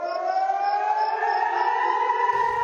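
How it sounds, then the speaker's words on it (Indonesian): A wailing air raid siren sounds steadily after a drone launch at a US military base, its tone slowly rising, loud and sustained with no voices. "tak lama sirine serangan pun berbunyi."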